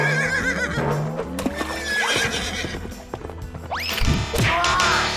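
Game horses neigh and whinny loudly over clattering hooves and crashing impacts, several shrill calls rising above a busy, noisy scene.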